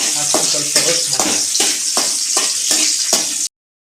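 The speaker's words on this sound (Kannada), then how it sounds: "ಈ ಗೋಡಂಬಿ ಎಲ್ಲ ಚೆನ್ನಾಗಿ ಫ್ರೈ ಆಗಬೇಕು" Cashew nuts fry in a pan of hot fat for a jackfruit halwa, giving a loud, steady sizzle broken by regular scraping stirs about every half second, and then it cuts off abruptly.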